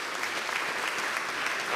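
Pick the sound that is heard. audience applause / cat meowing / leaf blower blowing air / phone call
audience applause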